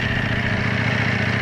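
A Ducati Panigale V4 motorcycle with its 214-horsepower engine running, a loud, close, steady rumble with a throbbing low pulse and no pause.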